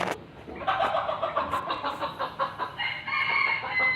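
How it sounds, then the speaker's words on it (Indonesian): Backyard chickens cluck together in a steady, busy chorus while a rooster crows over them, close and continuous from start to finish. "bersama paduan suara para ayam"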